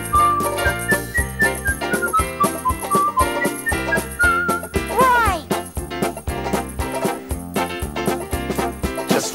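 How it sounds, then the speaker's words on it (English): A whistled melody with a steady, wavering pitch carries over a bouncy musical backing with regular beats, the tune weaving up and down in bright tones. "You don't have to sing, Bullwinkle. You can just whistle."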